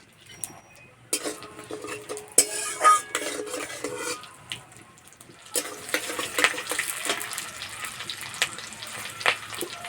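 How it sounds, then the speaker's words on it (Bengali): Whole cumin seeds and slit green chilies hit hot oil in a pan, starting with clinks and scrapes of utensils, then breaking into a loud, close sizzle that hisses on with occasional stirring. "তেলে দেবো গোটা জিরে, চেরা কাঁচা লঙ্কা"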